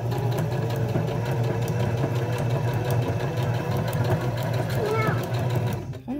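A sewing machine runs steadily while stitching a DIY face mask with a nose wire, its fast rhythmic whirring hum continuous and close before stopping abruptly near the end.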